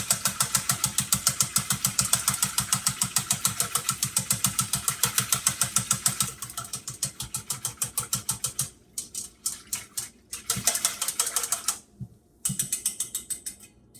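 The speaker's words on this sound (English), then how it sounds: "I'm gonna go ahead and mix it up with my whisk" A whisk beats A1 steak sauce in a bowl for a portobello mushroom steak, a fast, steady run of close rattling clicks that later turns choppy and broken into short bursts.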